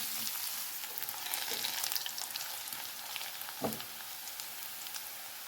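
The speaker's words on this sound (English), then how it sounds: "Add in the sliced onion. Cook this till the onions have a light color on them." Sliced onions fry in a pan for fenugreek and tomato sabzi, giving a steady close crackling sizzle with a brief stir or clatter partway through and no speech.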